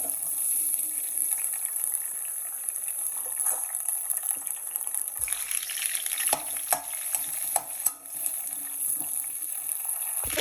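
Garlic frying in hot oil for tomato pickle, a continuous sizzle with scraping stirs and a few sharp spoon clicks against the pan, close and without talk.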